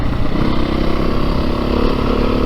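A 2022 Beta 430 RR-S dirt bike engine lugs at low RPM while being ridden, a close, loud, steady throbbing thump with a constant rough rumble and no talk.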